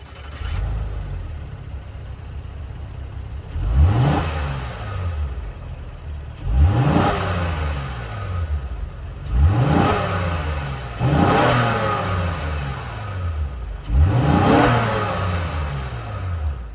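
A 2025 Honda Pilot Black Edition's 3.5 liter V6 idles steadily, then is revved in five or six distinct, evenly spaced blips, each climbing sharply and falling back to idle, close and loud with no talking.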